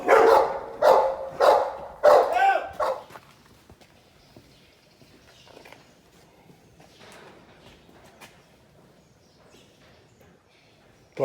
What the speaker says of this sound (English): Well, here we have a controlled hold and bark.